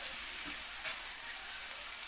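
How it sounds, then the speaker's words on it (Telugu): Vegetables for a simple vegetable rice frying in hot oil, a continuous bright sizzle close up with no talking. "చూడండి ఎంత బాగా వేగిపోతున్నాయో."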